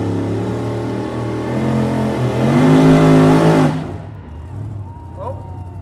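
Super modified 2x4 pulling vehicle, Wicked Willie driven by Barb Cochran, roars at full revs down the pulling track at Embro, the engine climbing loud and harsh before cutting off abruptly, with an announcer talking over it.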